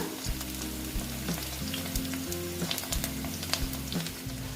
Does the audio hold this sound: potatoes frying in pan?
yes